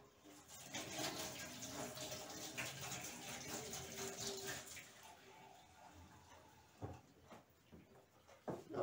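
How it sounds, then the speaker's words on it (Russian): Warm water is poured to make up half a litre, a steady faint splashing and gushing that runs for several seconds before breaking into a few separate splashes and clinks. "Так, тепленькой водички добавлю."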